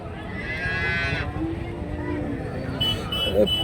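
Cattle at the weekly Karimangalam livestock market, where dairy and pregnant cows are traded, give a drawn-out moo amid a busy crowd, with people talking nearby throughout.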